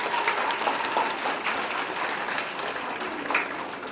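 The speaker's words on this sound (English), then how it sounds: "a big round of applause and hear about our presentation" Applause from an audience at a second grade school assembly, a steady wash of many hands clapping that holds evenly throughout with a faint voice in the background.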